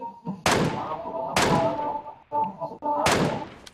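Three loud, sharp gunshots in the mobile battle royale game PUBG Mobile, spaced about a second apart, each with a crisp crack and a short decaying tail over quiet game background.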